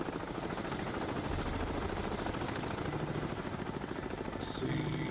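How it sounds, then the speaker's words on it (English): A helicopter approaches over the South China Sea in the naval game Cold Waters, a steady, dense rotor chop and engine drone that holds throughout at constant loudness with no voices. "Looks like they've sent a helicopter out."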